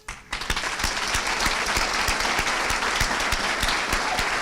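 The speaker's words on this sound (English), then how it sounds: "join me in a big round of applause for the" A room at a chamber of commerce annual meeting breaks into sustained applause for the chamber staff, many hands clapping steadily and evenly for several seconds after a brief quiet start.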